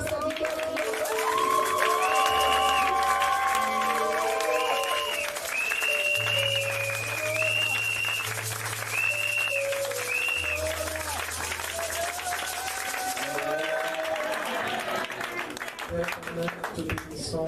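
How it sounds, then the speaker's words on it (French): A church congregation claps and cheers through a Sunday worship service, with sustained keyboard-like tones and a low bass line running beneath the steady applause and mixed voices. "Alors nous allons acclamer le Seigneur pour son salut."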